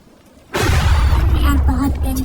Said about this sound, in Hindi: अरे बारिश शुरू हो गई